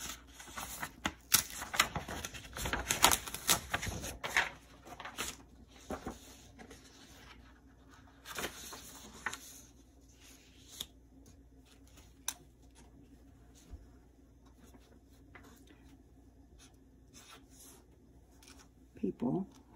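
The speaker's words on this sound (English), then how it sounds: "Pardon me for a second while I move paper around." Sheets of paper being moved around on a desk: scattered close rustles and shuffles, loudest early on and then sparser and quieter, with a person talking at times.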